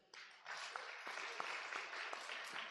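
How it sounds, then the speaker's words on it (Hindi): Applause from a church congregation clapping in praise of Jesus Christ at a Christian women's conference, a dense wash of many hands that starts abruptly and holds steady throughout. "यीशु मसीह के लिए ताली बजाइए।"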